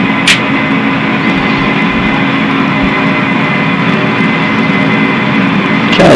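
Jet engines on a professional Boeing 737 flight simulator at takeoff thrust make a loud, steady roar that continues throughout, with a couple of brief sharp knocks.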